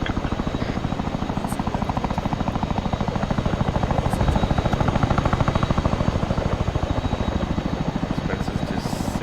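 A Chinook helicopter idles in the Arma 3 video game with rapid, steady rotor thumping and a droning engine whine, loud and unbroken throughout, and faint voices murmur underneath.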